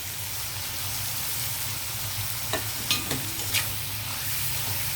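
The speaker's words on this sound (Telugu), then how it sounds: "రొయ్యలు వేగేటప్పుడే టమాటో, కరివేపాకు, అలాగే పచ్చిమిర్చి." Prawns frying in a pan with tomato, curry leaves and green chillies, giving a steady close sizzle with a few brief stirring scrapes midway.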